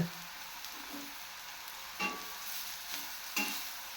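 Vegetable curry being stirred in a pan, with a spoon scraping in a few distinct bursts over a low frying sizzle, close and fairly quiet.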